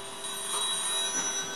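A telephone rings with an incoming call during a mobile DJ setup, a steady electronic ring running through the short stretch with no talk over it.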